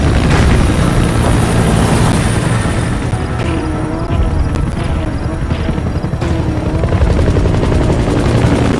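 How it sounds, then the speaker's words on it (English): A support helicopter in the video game Metal Gear Solid V: The Phantom Pain thunders loud and close with a continuous rotor chop and engine drone that runs the whole stretch without pause. "Support helicopter requested."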